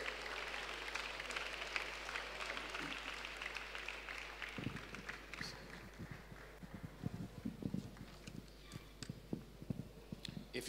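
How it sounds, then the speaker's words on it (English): An audience at a 2018 university convocation lecture applauds during the vote of thanks, faint and scattered at first, then clearer as claps sharpen into a patchy, uneven ovation over a low steady hum. "Let's keep clapping for him until he gets here"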